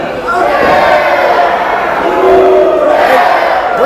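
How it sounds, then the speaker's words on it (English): A wrestling crowd at a Silas Young versus Brandon Nytroe match cheers and shouts in a loud, continuous roar, with a commentator's voice running over it. "And Brandon Nitro's got this crowd behind him."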